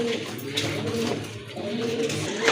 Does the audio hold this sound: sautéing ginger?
no